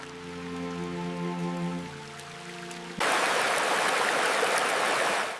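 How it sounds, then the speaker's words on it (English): A cold stream flows in a rural Iranian village, its water rushing loud and close in a dense, steady wash that abruptly rises partway through after a tonal hum fades out. "The cold stream washes away soil, but keeps the freshness alive."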